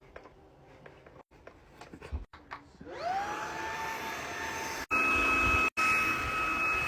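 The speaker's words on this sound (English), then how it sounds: "We're gonna put this new vacuum to the test." A Wyze cordless stick vacuum cleaner switches on after a few clicks and spins up into a steady, high-pitched whine. Its motor steps up to a louder setting near the end, close by and continuous.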